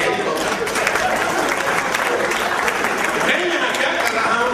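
An audience at a Hindi poetry recital applauds, a loud, continuous and even roar of clapping that fills the whole stretch with no letup, with crowd voices blended in.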